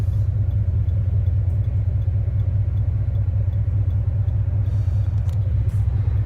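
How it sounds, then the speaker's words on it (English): A 1995 Dodge Ram pickup with a 5.9-liter V8 and a Thrush muffler on a damaged, faulty exhaust pipe cruises down the highway, its deep steady rumble droning loud and close throughout with no talk. "It's got the thrush welded on it, but it's kind of a faulty exhaust."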